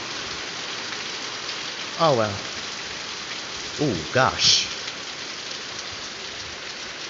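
Heavy rain pours steadily during a thunderstorm in NW Dalton, heard from a porch as a dense, even hiss throughout. A voice briefly exclaims a few times over the downpour.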